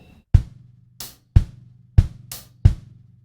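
A drum kit plays one bar: four strong bass drum hits spaced evenly with crisp hi-hat strokes falling between them, close and alone with no talking.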